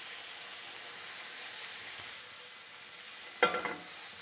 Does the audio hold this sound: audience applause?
no